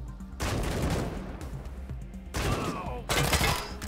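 Automatic turret gunfire in the Wasteland 3 video game, a turret hitting its own side's men, heard as repeated bursts of shots in separate volleys with short gaps between them.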